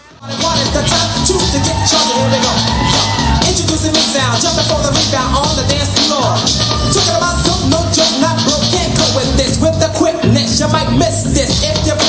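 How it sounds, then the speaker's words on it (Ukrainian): A charity concert crowd greets a dance school's performers with loud, continuous applause and cheering that fills the hall, mixed with shouts and music-like tones, steady for the whole stretch. "Шаленими оплесками глядачі зустріли учасників Underground Family Dance School"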